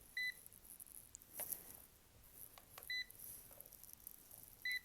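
A KAIWEETS KM601S multimeter on continuity test across a fuse gives three short, clean electronic beeps spaced roughly evenly apart over a quiet background.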